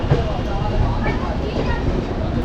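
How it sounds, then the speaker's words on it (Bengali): A train leaving Howrah station rumbles along with a low, continuous rolling drone and rattle, steady and close, heard from on board. "আর আমাদের ট্রেন ছাড়লো হাওড়া স্টেশন থেকে"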